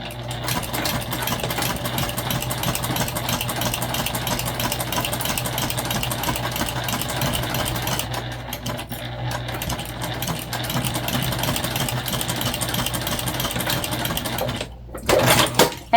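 A sewing machine runs in one long steady burst, stitching a backpack seam, its motor hum and rapid needle chatter continuous and close before a brief pause and a short restart near the end.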